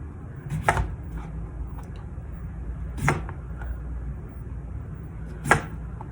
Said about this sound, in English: I'm going to choke up on the potato just a little bit to show you what thin slices can look like